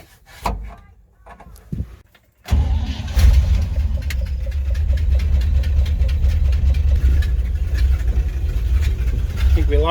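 The engine of a 1956 COE grain truck cranks and catches after a few rough false starts, then settles into a loud, steady, rumbling run close by, with a voice audible over the early attempts.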